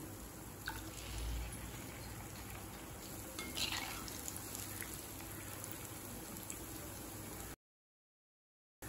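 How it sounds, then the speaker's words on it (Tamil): Potato rava fingers sizzle as they fry in hot oil on a stove at medium flame, a steady close crackling hiss with small pops that runs evenly and then cuts off abruptly near the end. "எண்ணெயில் போட்டு பொரிக்க ஆரம்பிச்சிடலாம்."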